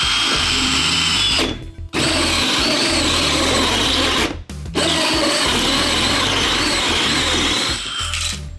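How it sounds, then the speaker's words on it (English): A round hole saw cuts into a sheetrock kitchen ceiling, a loud harsh whining grind that runs in three long bursts separated by brief stops, close and continuous during each cut. "I'm gonna take a round saw and I'm gonna make a round hole right here"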